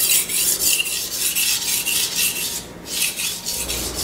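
A kitchen knife being sharpened on a whetstone, continuous loud rasping strokes in a steady back-and-forth rhythm with a brief pause near the end, close and with no talking.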